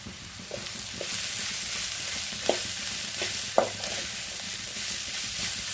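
Red poha with vegetables is stir-fried in a pan, a steady soft sizzle broken by a few sharp spatula scrapes and knocks against the pan.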